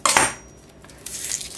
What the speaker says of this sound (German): Starten wir mal mit 2 Zwiebeln. Und die werden erstmal runtergeschnitten.